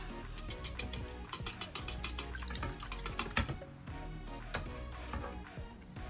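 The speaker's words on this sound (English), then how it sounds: "I'll whisk the eggs together." Three eggs are whisked together in a clean bowl for pancake batter. Rapid, continuous clicking and tapping of the whisk against the bowl is heard, fairly faint and with no talk.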